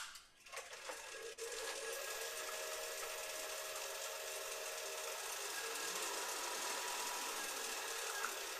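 Wood is carved on a lathe to shape the top of a spiral finial, a steady, close, high-pitched buzzing and scraping after a few faint knocks at the start, running continuously without talk.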